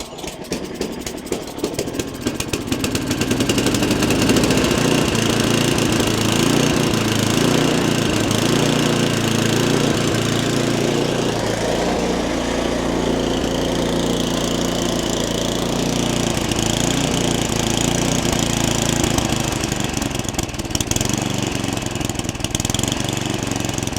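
A small snowblower gas engine idles steadily and loudly up close after a rough start, its uneven chugging running on without any voices.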